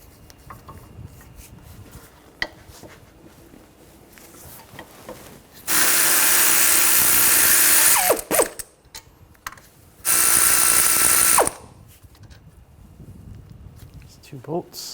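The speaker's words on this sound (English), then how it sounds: "using an 18mm socket, we're going to take the two caliper bracket bolts out" A ratchet with an 18mm socket removes caliper bracket bolts on a 2013–2019 Ford Escape. It makes two loud bursts of rapid clicking, each a couple of seconds long, separated by quieter workshop noise and faint talk.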